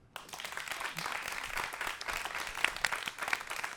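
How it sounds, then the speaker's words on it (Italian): A live podcast audience applauds, a steady wash of clapping from a crowd that holds at moderate level for a few seconds, with a few louder individual claps standing out. "Applauso."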